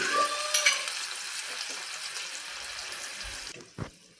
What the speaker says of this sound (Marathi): आता ह्या पाण्याला छानपैकी उकळी आलेली आहे